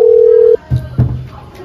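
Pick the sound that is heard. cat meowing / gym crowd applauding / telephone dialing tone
telephone dialing tone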